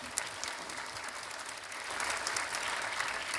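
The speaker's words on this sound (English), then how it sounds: "let's give him a warm round of applause" Steady applause from a graduation audience at the PGH PGI Batch 2022 ceremony, a dense wash of many hands clapping at even loudness that swells slightly in the second half, with no talking over it.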